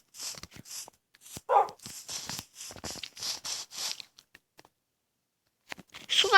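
A few short dog barks and whimpers from a pack of tamed dogs in Minecraft, clustered early and again at the very end, mixed with clicky game sounds and no speech.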